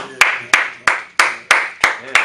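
Seven sharp, evenly spaced hand claps ring out in a steady rhythm during a radio interview, each one close and crisp with a short decay.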